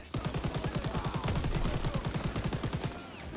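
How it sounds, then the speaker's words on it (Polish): Rapid, sustained machine gun fire from the video game Call of Duty WWII rattles in a steady stream of closely spaced shots, loud and close, with game-style effects in the background. "Daniels, łap ten KM na fast-tracku!"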